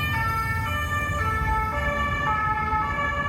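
A police car siren wails steadily and loudly through the street, its rising and falling tones filling the whole stretch with road noise underneath.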